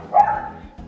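One short, muffled dog bark close by, followed by quiet background noise.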